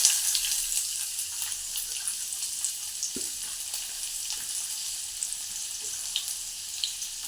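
Chopped garlic and capsicum sizzle steadily in hot oil in a home kitchen, a close, even hiss with a few small clicks and stirring taps scattered through it, and no talking.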